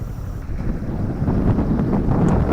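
A motorboat engine drones out at sea, growing louder as it nears, under heavy wind buffeting and water noise, with no talk.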